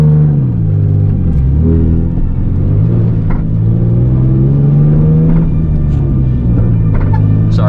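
A Nissan 350Z with coilovers pulls away on a steep hill, its engine revving hard with rising and falling pitch, loud and close throughout with no talk.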